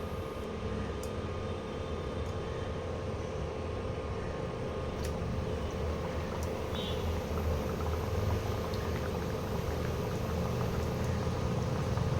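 Thekua frying gently in hot oil over low heat: a steady, soft, continuous sizzle and bubbling that holds at an even level throughout, with no voices.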